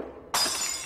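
An empty drinking glass shatters suddenly, a bright loud crash followed by a sustained spray of tinkling fragments scattering across the floor.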